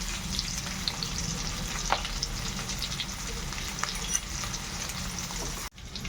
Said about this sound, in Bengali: আলুগুলোকে একটুখানি কষিয়ে নেবো